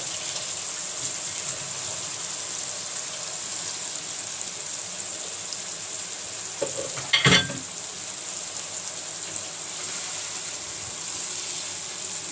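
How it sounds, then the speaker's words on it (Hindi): Chickpea curry masala simmering in a pan after water has been poured in, giving a steady, soft sizzle and bubbling throughout with a brief louder stir or splash midway, no voices. "अब हम इसको ज़रा सा पानी डाल के इसको छोड़ देंगे तकरीबन 5 मिनट के लिए।"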